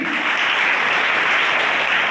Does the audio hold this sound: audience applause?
yes